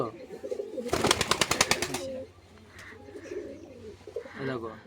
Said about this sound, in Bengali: এটা নরনা মাদি এটা মাদি পায়রা দেখতে পাচ্ছ